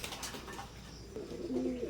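Teddy pigeons, an imported bloodline pair, give a soft low coo near the end after a stretch of quiet background noise.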